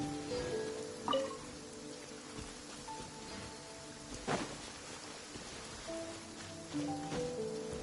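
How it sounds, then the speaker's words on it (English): Rain falls steadily in the Genshin Impact game world, a soft continuous hiss of drops with a few louder splashes, while quiet musical tones ring faintly underneath. "I'm used to the rain, but you should probably use an umbrella."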